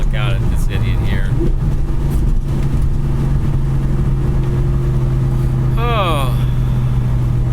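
A Ford Coyote V8 swapped into a car drones steadily at cruise, its low engine note loud and constant throughout, with people talking over it and a brief whine near the end.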